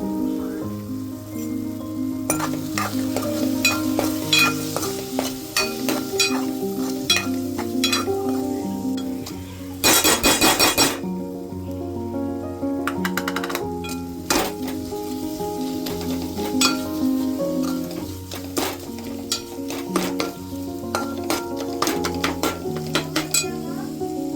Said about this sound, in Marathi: आता आपलं टोमॅटोला छान तेल सुटले तर आपण यामध्ये मसाले मिक्स करून घेऊया.